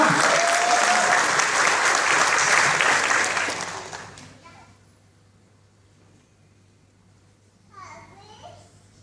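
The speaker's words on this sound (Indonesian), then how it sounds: "Tepuk tangan untuk kita semua." Loud crowd applause fills a keynote hall at a business seminar, then fades away over about four seconds, leaving near silence before a voice begins speaking.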